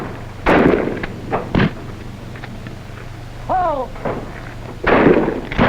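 Rifles fire at a shooting practice in a few sharp, echoing shots spaced irregularly, mid-distance, as a man calls out once between them.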